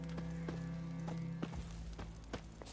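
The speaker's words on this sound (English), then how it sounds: "My horse." Horse hooves clip-clop steadily in The Witcher 3, a regular run of hoof beats over a constant low game ambience, moderately close.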